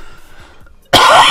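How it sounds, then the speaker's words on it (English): A single sharp, loud cough bursts out after near-silence during PUBG gameplay. "That was a cough."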